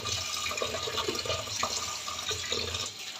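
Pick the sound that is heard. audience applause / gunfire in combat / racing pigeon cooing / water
water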